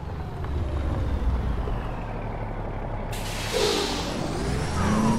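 Heavy truck air brake in Euro Truck Simulator 2, driven in a Brazilian trucking setting: a steady low diesel engine rumble, then a loud, sudden hissing release of air from the brakes partway through that trails off as the engine carries on.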